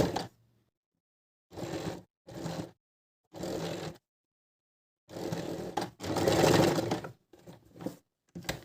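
A sewing machine stitches along a sleeve border to hide its edge, running in several separate bursts of whirring, the longest and loudest near the end, with short pauses of silence between runs.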